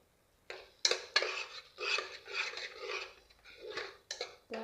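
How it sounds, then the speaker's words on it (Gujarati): A spoon scrapes and rasps against a pot, stirring and mixing gravy for a lobia (chora) sabji, with uneven strokes in quick bursts, close and fairly quiet, no voice. "ત્યાર પછી આપણે એને સરખી રીતે સારું મિક્સ કરી દેવાનું બધાને"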